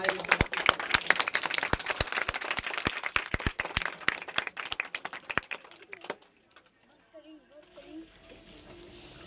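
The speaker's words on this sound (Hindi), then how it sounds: "आप लोग अपनी तालियों की गड़गड़ाहट के साथ सबका स्वागत करेंगे" An audience claps to welcome a new school headmaster at a 26 January event, a dense burst of applause that thins into scattered claps and fades out, with voices talking afterward.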